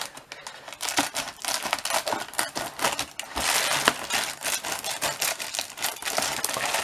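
Rapid, irregular snipping and crinkling close by, as scissors cut and handle the plastic packaging of an LED Lenser torch in quick successive bursts.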